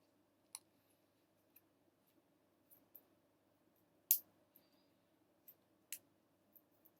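Scissors snip at a snack package in a quiet room, a few sharp isolated clicks and cuts spaced irregularly over several seconds, close to the microphone with near silence between them.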